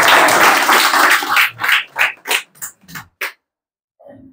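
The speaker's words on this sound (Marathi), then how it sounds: "त्यामुळे टाळ्या वाजवायला पाहिजे का नाही?" An audience of villagers clapping hands, a dense burst of applause that breaks into a few separate claps and fades into silence, with a faint voice at the very end.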